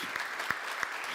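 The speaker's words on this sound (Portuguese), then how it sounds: "Vamos aplaudir a Jesus." Applause from a church congregation during a Sunday school service, a steady quiet patter of clapping with a few sharper claps standing out, no talk over it.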